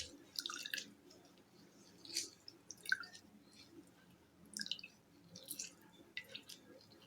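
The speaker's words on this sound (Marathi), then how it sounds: "तर पूर्ण 1 लिंबू याच्यामध्ये मी पिळणार आहे" A whole lemon is squeezed by hand over water, giving faint, intermittent wet squishes and drips in short bursts separated by quiet.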